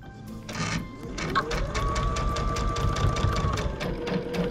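A sewing machine stitches a quarter-inch quilt seam on a diamond ripple quilt, a fast, even run of needle strokes with a humming motor, close and steady throughout.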